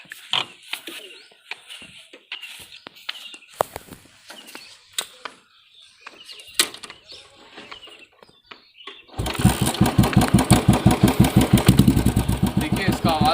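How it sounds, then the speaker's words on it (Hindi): A Royal Enfield motorcycle fitted with an Indori silencer exhaust fires up after several seconds of sporadic knocks and voices, then runs loud and close with a deep, punchy, rapidly pulsing thump that rises and falls as the throttle is blipped. "इंदौरी साइलेंसर, इसकी आवाज़ कैसे आएगी।"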